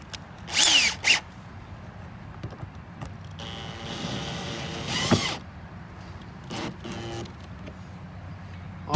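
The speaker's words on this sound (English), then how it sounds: "you want to make sure your drill is not set on all the way torque" A power drill drives 5/16 screws to mount rod holders on a bass boat, with short close bursts of whirring near the start and a longer run in the middle, separated by quieter handling noises.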